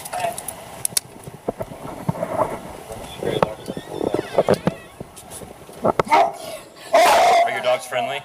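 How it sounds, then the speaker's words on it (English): Dogs bark from inside a trailer home in rough, scattered outbursts, loud and nearby, sometimes overlapping, amid people talking and background bumps. "Are your dogs friendly? They're friendly, but they sound rough."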